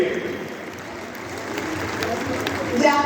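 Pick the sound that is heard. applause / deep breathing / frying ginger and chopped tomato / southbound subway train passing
applause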